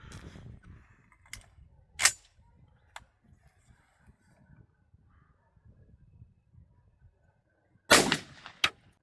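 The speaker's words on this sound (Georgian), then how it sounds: "ნახოთ ახლა ბრაუნინგი რას იზავს თავის საფირმო გასროლით" A Browning Maxus semi-automatic shotgun fires two loud, sharp shots several seconds apart outdoors, each blast followed by a brief echo, with faint mechanical clicks between.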